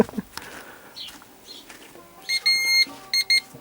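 A car parking sensor beeps in short repeated bursts, a long tone then quicker pulses, over low background noise.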